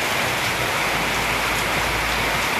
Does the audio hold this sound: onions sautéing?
no